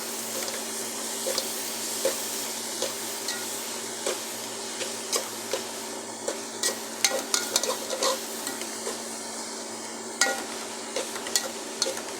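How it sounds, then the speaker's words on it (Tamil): A spoon stirs salted vegetable kuzhambu in a pot, steady soft sizzling under irregular sharp scraping clicks against the pot, close and with no voices. "போட்டாச்சு கொஞ்சம் கிண்டி விடலாம்"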